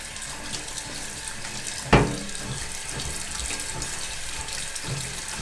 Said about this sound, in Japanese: 今からまあさっきの汚れもあるんで一回水洗いして